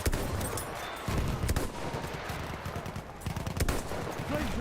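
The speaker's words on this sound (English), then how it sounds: "Enemy machine gun." Enemy machine gun fire in Battlefield 1 rattles on without a break as a dense, loud stream of rapid shots mixed with other battle noise.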